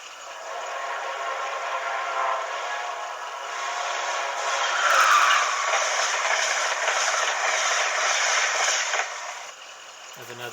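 The whoosh effect from a model locomotive's sound decoder, recorded with an SC44 Charger in mind: another train rushing past, swelling and fading over several seconds as a steady broadband roar, with a faint tone near the end.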